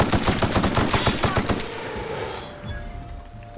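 Rapid automatic gunfire in The Outer Worlds video game, a loud close burst of evenly spaced shots that stops partway through, leaving a quieter stretch of game sound.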